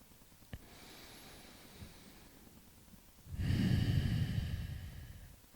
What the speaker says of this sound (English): Last breath here.